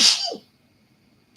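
One sharp, loud human sneeze bursts out close up and trails off within half a second, followed by quiet and a faint breath at the end.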